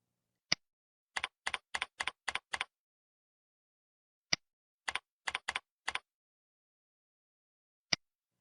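Keystrokes on a computer keyboard while logging in to nursing software, heard as a single tap, a quick run of about eight clicks, another tap and a burst of about seven, then one final key press, crisp and close in a silent room.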